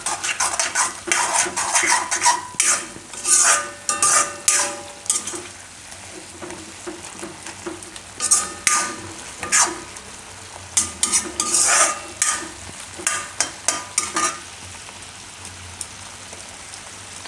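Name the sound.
stirring cheese broccoli fried rice cooking in a pan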